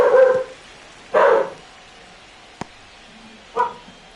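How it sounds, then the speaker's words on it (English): Several dogs barking indoors, three separate bursts of short deep barks spaced apart, with a single sharp tap in between and quiet gaps. "The dogs are cheering him on."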